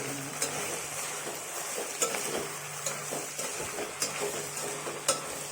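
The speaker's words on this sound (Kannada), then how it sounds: "ತರಕಾರಿ ಎಲ್ಲ ಚೆನ್ನಾಗಿ ಬೇಯಬೇಕು ಅಂತ ಎಣ್ಣೆದಲ್ಲೇ ಬೇಯಿಸ್ಕೊಳ್ತಾ ಇದ್ದೀನಿ" Vegetables frying in oil in a pan while being stirred, a steady close sizzle with regular light scrapes and clinks of a utensil against the pan.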